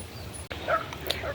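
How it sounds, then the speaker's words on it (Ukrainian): Somewhere nearby a dog gives a short burst of yipping barks, moderately loud over low background noise. "Десь песик з кимось там розмовляє, теж має право голосу"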